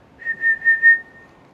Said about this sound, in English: The Flutino is a musical instrument of the wind family.